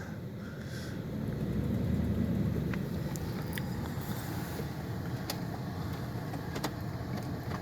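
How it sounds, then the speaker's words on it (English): An old truck rolls along in four-wheel drive, its steady engine and road rumble filling the clip and swelling slightly early on, with no talking. "Grandpa's gonna put the old truck in four-wheel drive."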